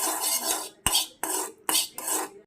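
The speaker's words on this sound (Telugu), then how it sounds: "ఇలా మగ్గిన తర్వాత మనము మళ్ళీ కలుపుకోవాలి" Chicken liver fry being stirred in a pot, with five close, rhythmic scraping strokes of a utensil against the metal, each separated by a brief pause.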